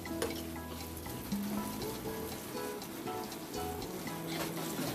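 Urad dal fries over a full flame in a pan and is stirred, a steady close sizzle with scraping stir sounds throughout, no speech.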